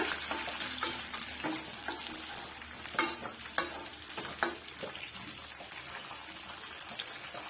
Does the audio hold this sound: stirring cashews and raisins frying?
yes